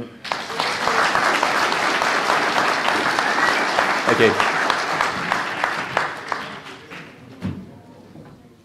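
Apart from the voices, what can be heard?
conference audience applause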